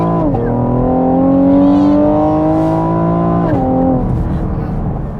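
A 2020 Chevrolet Camaro accelerates at full throttle, its engine note climbing steadily in pitch through one long gear, dropping sharply at a shift, then rising again, loud and close from inside the cabin.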